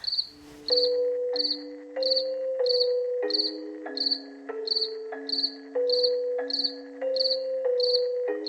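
A cricket chirps in steady, evenly spaced bursts about twice a second, close and clear in a quiet room at night, with a faint low tone droning beneath and no talk.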